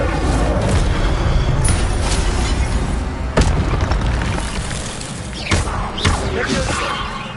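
A fire spell cast in Hogwarts Legacy gameplay bursts as a dense booming whoosh, with heavy thuds and sharp impacts over continuous loud combat noise.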